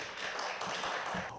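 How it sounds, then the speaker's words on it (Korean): An audience at a Korean lecture event applauds a speaker being introduced, a steady, fairly close wash of clapping that holds throughout and eases off at the end. "뜨거운 박수 부탁드리겠습니다."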